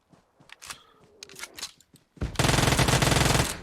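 Automatic gunfire from the last bullets in a video game during a bridge ambush: a few scattered clicks and small impacts, then a loud, sustained rapid-fire burst of about a second and a half.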